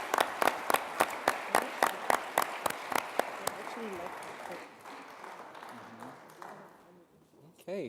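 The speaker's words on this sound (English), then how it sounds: "Another round of applause for Erica." An audience applauds a business challenge finalist with a run of distinct claps that blends into looser applause and fades out.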